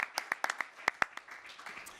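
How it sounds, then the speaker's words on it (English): Sparse, scattered applause from a small audience at a government Covid-19 press briefing, faint and distant, a handful of separate claps that thin out quickly. "Let's give him a big round of applause, Jano Lieber"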